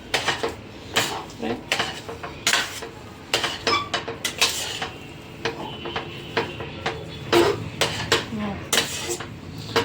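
A spoon scrapes and clinks rhythmically against a cooking pot while mixing spices, including amchur, over a low flame for aloo paratha filling. The metallic taps repeat steadily, with faint talking underneath.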